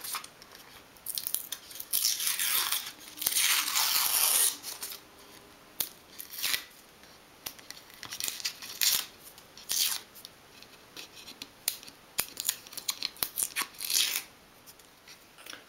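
Old paper is peeled and torn away from a dolls house chimney breast by hand, giving bursts of crisp ripping and scratchy scraping in irregular clusters, close and fairly loud.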